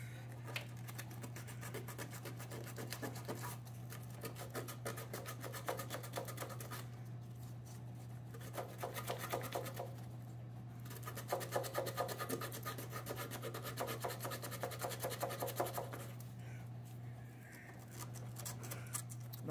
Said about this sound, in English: I'm going to go ahead and sand this surface right here.